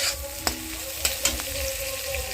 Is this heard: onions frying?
yes